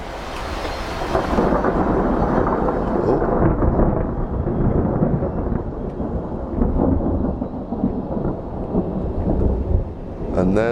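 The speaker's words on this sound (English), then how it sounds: "And there's the thunder, right on cue." A long, deep rumble of thunder rolling on for several seconds, loud and close, with rain hissing in the background.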